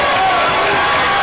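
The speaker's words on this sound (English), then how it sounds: "You get the Rush Club Nation cheering them on" Crowd cheering on rope climbers at a RushClub competition, a loud, dense wash of cheers and shouts that is continuous across the short moment.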